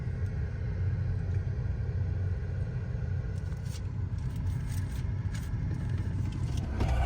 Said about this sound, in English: I was going to record outside while I was pumping the fuel, but the wind is so bad.